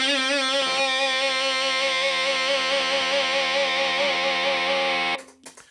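A sustained, heavily distorted electric guitar tone from an octave distortion effect pedal, with a warbling octave effect, rings steadily for about five seconds, then cuts off abruptly.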